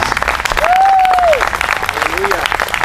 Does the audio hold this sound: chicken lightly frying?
no